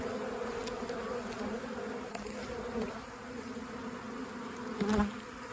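Honey bees buzz steadily around an open brood nest, a dense, continuous hum close by with a slight swell near the end, no talking.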